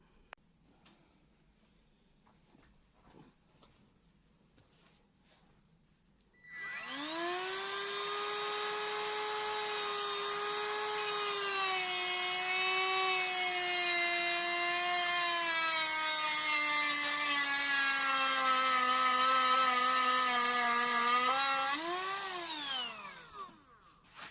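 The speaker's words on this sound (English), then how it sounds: "Alright, let me grind this one down." A power tool grinds down an aluminum brake part on a Lexus IS500 big brake kit, spinning up loudly with a strong steady whine that holds, then winds down at the end after quiet beforehand.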